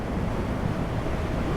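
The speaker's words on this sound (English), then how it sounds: "massive waves." Near the coast at Nazaré, massive ocean waves make a constant, dense roar. Heard from a stopped BMW R1 motorcycle, the surf is mixed with steady wind rumble on the microphone and has no clear breaks.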